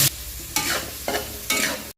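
Onions hitting hot oil and melted margarine in a pan for beef caldereta, with bursts of sizzling and stirring that swell about every half second over a steady frying hiss.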